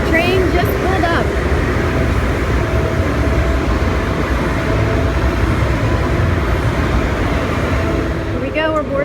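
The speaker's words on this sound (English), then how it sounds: "The train just pulled up." The Hogwarts Express ride train at Universal Orlando rumbles steadily close by, a dense low roar with brief squealing tones at the start and end, as it rolls into a station.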